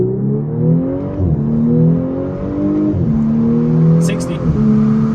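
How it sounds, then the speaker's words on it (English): Tuned 2018 Audi S5 Sportback with Stage 1 tune and manual transmission, engine revving up hard through several gear shifts, strong and close from inside the car, with brief voices over it. "Gonna do 0 to 60. Manual transmission, traction control off."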